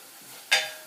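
Ginger and chilies hit a hot pan with herbs, giving one sudden loud sizzle burst that fades over about half a second after a quiet stir.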